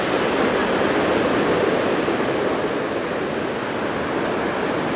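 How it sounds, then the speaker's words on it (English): Small mini waterfall at Cheonjeyeon, Jeju, pours continuously, making a steady broadband rush of falling water that stays close and even the whole time, with no voices. "a little mini waterfall, like half the size of the ones by the hotel"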